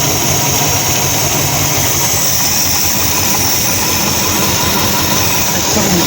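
A 1953 Ford Customline with a swapped-in 350 V8 runs steadily after a new intake, a loud continuous engine drone with exhaust rumble and no talking.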